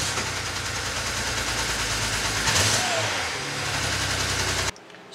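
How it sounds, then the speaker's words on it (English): A BMW 335i wagon engine runs rough with a misfire, loud and close, holding a steady uneven note before cutting off abruptly near the end. "we'll delete the fault codes and then start the car up and see how many cylinders it runs on"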